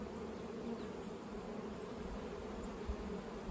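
Honey bees fill a hive with a dense, continuous buzzing drone, close and steady throughout with no voices.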